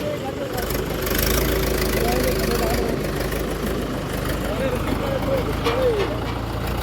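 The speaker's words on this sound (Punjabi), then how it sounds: "ਬਾਈ ਉਹ ਦੇਖੋ ਟਰੈਕਟਰ" A tractor engine runs steadily at idle in a flooded village, with rushing floodwater around it. The rumble is continuous and mid-loud throughout, and people talk over it.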